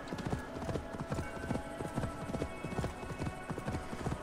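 Horse hooves while riding in Assassin's Creed Valhalla, in a snowy area: steady, rhythmic galloping hoofbeats, close and clear, with no one talking.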